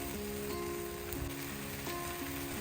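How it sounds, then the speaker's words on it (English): Tomatoes sizzling in a hot pan for a Chinese stir-fried tomato and egg dish, a steady close frying hiss with a few soft stirring scrapes. "add the tomato cube and stir in all together"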